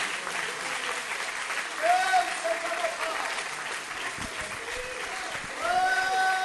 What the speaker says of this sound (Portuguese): Vamos aplaudir bem forte ao Senhor.